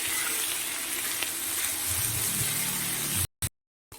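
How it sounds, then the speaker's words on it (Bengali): Dried fish sizzles and crackles in hot oil in a wok, a bright steady frying hiss close by, cut off abruptly near the end. "দিয়ে বেশিক্ষণ লাগে না ভাজতে মিনিট তিন চারেক একটু লাল লাল করে ভেজে"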